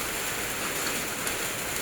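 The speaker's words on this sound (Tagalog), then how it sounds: "Malakas ang ulan, eh." Heavy rain pours down in a dense, steady hiss of countless drops hitting surfaces, loud and close with no voices.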